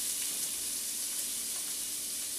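Onions fry in hot olive oil in a pan, producing a steady, even sizzling hiss heard up close with no talking over it.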